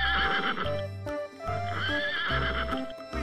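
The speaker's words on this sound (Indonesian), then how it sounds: "Wow, di sini ada kuda." A horse whinnies in two shrill, quavering neighs over rhythmic background music.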